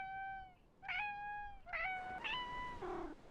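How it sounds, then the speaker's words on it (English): A cartoon cat character in the fishing game Webfishing meows four times in a row, clear tonal synthesized mews with short gaps, each slightly different in pitch, the last one lower and longer. "You can meow!"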